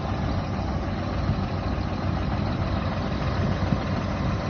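An Iraqi truck's heavy engine idles steadily at a loading area in Takestan, with a continuous low rumble throughout, close by and with no talk.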